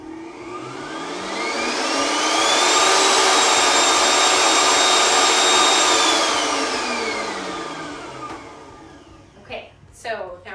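A Vitamix Explorian blender runs empty, its motor whine ramping up from low to speed 10, holding a loud roaring pitch, then winding down, followed by a few clicks and handling knocks.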